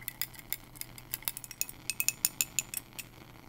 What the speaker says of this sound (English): We will stir to dissolve as much of the copper sulfate powder as possible